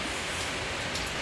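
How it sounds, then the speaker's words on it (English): Heavy rain falls in a steady, even hiss, fairly soft and unbroken for the brief moment, with nothing else heard. "it's raining so heavily"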